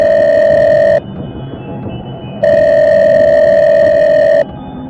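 A loud electronic telephone ring sounds in two long bursts separated by a short pause, steady and close.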